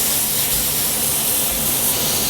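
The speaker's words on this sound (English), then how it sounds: "Once you hear that sizzle, you know they are." A steady, loud sizzling hiss runs unbroken from start to finish as hanger steak sears on a hot Himalayan salt block, with no voices.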